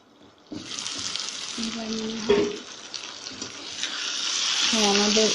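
Chicken pieces browning in a pan for a chicken and egg bhuna give a steady, close sizzle that swells toward the end, with a few short vocal sounds over it.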